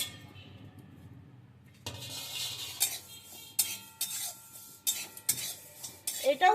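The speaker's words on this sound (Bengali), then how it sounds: "এবার জিরেটা ভেজে নিচ্ছি" Cumin seeds dry roasting in a pan after a quiet start, with a spoon or spatula scraping and clinking against the metal in an irregular stirring rhythm, close and fairly clear.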